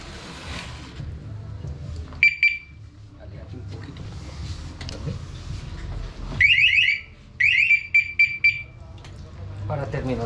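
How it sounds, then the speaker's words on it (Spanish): A Yamaha R3 motorcycle's electronic alarm beeps in short, high-pitched bursts during a coolant change, sounding once early and then in two longer pulsing runs, with voices talking between them. "Ahorita se va a activar esta alarma."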